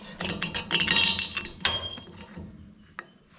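Metal bolts clink and tap sharply against a pulley on a Sampo 500 mini combine, a few close, bright metallic ticks that thin out toward the end.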